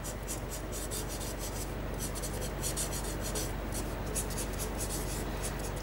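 Rapid scratchy strokes of an alcohol marker's chisel tip shading a drawing of a chair on paper, quick and rhythmic, close and steady over a constant low hum, with no talking.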